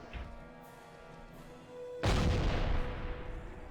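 A heavy artillery piece fires in the Warhammer: Mark of Chaos fantasy battle game, one loud booming blast that rolls out over the battle noise after a quieter stretch.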